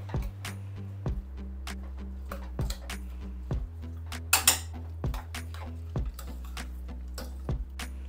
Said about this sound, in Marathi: अशा पद्धतीने हळू असं छान सगळं मिक्स करून घ्यायचं आहे.